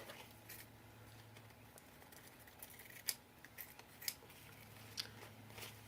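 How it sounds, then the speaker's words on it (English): Scissors trimming a paper dress tag, giving a few faint, separate snips spaced about a second apart over a quiet room background. "So I'm going to trim off the top here."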